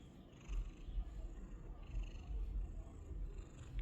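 A black cat purrs close up, a soft low rumbling that swells and eases with each breath, steady and quiet with no other sounds.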